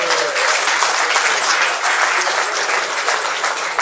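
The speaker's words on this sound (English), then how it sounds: "Give yourselves a great round of applause." A gathering of sailors at the 2008 Melges 24 North American Championship in Annapolis bursts into loud, continuous applause that holds at an even level from start to finish.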